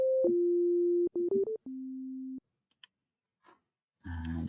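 Pure steady sine tone from operator D of a Dirtywave M8 FM synth, held notes with a short run of quick stepped pitches in between, then silence with faint clicks and a burst of other sound at the end.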